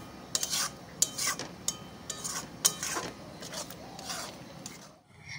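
Mutton masala with beaten yogurt being stirred and fried in a pan, a metal spatula scraping and clinking against the pan in irregular strokes over a low sizzle, close and moderately loud.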